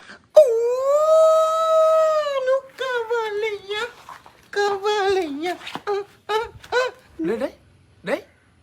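A person imitates a dog's howl, starting with a long, drawn-out wail and breaking into shorter rising and falling yowls and whimpers, close and loud with no other sounds.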